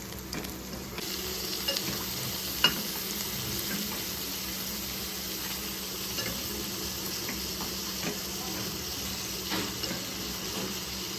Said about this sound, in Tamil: இந்த ஸ்டேஜில் வந்து நம்ம மட்டனை சேர்த்துக்கலாம்.